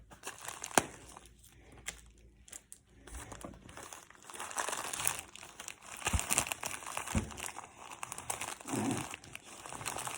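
Parcel packaging from an online order being cut and torn open up close, with continuous crinkling and rustling of plastic wrap and tape over about ten seconds and no talk.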